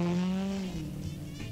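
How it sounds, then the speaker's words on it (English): A cartoon car approaches with a rising engine tone and a brief squeal-like whine, loud and close, fading slightly as it passes, with no talk over it. "I hear a car coming."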